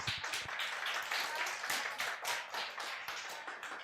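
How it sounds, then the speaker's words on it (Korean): A church congregation claps in a quick, uneven rhythm, with many hands striking together in distinct beats. The clapping is moderately loud and steady throughout, with no voices over it. "박수 주세요."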